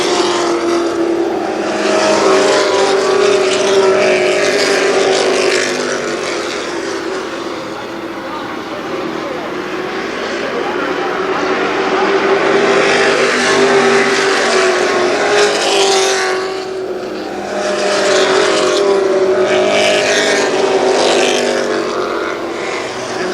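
Race cars circling an oval at Kil Kare Speedway in Dayton, engine roar swelling and fading as cars pass in a steady loud drone, with an announcer's voice faintly beneath.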